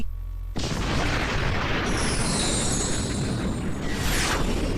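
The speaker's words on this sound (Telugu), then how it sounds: "Pegasus star blast attack." The Pegasis Star Blast attack in a Beyblade anime episode lands as a sudden loud boom after a brief quieter moment, then a long roaring blast with a rising high whoosh.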